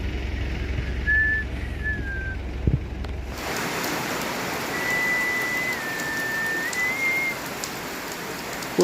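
Rain falls steadily on the Ecuadorian rainforest in Yasuní, a dense hiss of drops striking leaves and surfaces, with a bird's thin whistling call rising above the downpour now and then.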